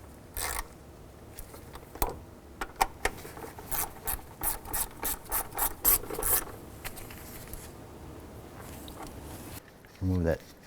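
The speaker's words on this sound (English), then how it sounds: "Take our 8mm bolts. Line them up on the bracket here, get those installed. We'll snug them down and tighten them up." Ratchet wrench snugging and tightening 8mm bolts on the knock sensor bracket of a 2001-2007 Ford Escape, with rapid close clicking bursts in a steady rhythm and a brief rasp at the end.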